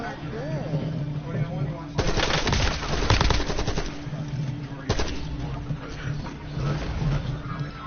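Machine-gun fire rattles in a Call of Duty match, with a loud rapid burst in the middle and a shorter one after, over steady game ambience while a voice talks.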